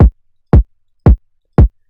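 Four punchy, heavily compressed kick drum hits with deep low end sound at an even, steady pace, each dry and isolated with silence between.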